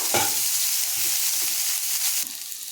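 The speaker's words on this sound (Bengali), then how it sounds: "কুচি কুচি করে নিয়েছি পেঁয়াজ কাঁচা লঙ্কাগুলোকে দিয়ে একটু আমি নাড়াচাড়া করে এগুলোকে ভেজে নেব হালকা" Chopped onions and green chillies frying in a pan for bread pakora, a loud, close, continuous sizzle broken by several soft scraping stirs.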